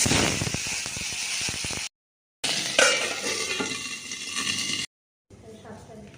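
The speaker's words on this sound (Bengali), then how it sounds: "আর একদিকে শিমটা ভাজতে দিয়ে দেবো।" Flat beans frying in a pan in a home kitchen, a steady sizzle with stirring and scraping, broken by short cuts of silence, with no talk over it.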